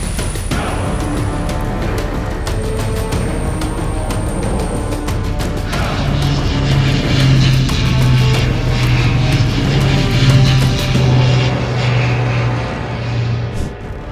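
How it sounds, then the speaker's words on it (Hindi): A Coast Guard Dornier patrol aircraft heads out on a mission, its propeller engine droning loud and steady throughout, the tone swelling as it passes close. "डॉर्नियर विमान अपने मिशन पर निकल चुका है।"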